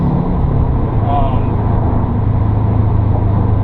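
A turbocharged car fitted with a Cobb AccessPORT V3 and SF intake runs in fourth gear at about 14 pounds of boost, giving a loud, steady engine drone and rumble heard from inside the car.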